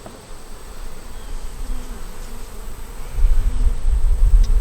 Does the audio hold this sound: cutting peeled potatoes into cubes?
no